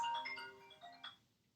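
A mobile phone ringtone goes off during a yoga class, a short bright electronic chime of several quick notes that fades after about a second, alone and fairly faint.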